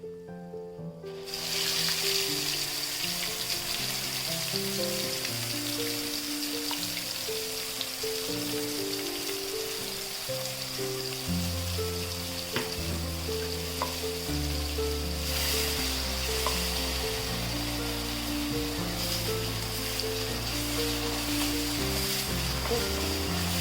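Nuts frying in hot oil in a pan for curry leaves chitranna, a dense continuous hiss and sizzle that starts abruptly and holds steady and fairly loud throughout, with no talking.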